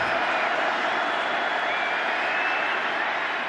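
A packed stadium crowd at an NFL AFC Championship game between the Cincinnati Bengals and Kansas City Chiefs roars in a steady, dense, distant wash, with faint voices mixed in.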